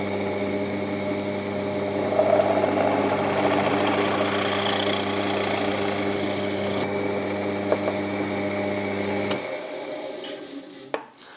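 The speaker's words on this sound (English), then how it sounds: "This is now my 11 millimeter cutter." A pillar drill bores with an 11 millimeter cutter, giving a steady, close mechanical drone with faint grinding that runs evenly and then cuts off near the end, followed by a brief rattle as it winds down.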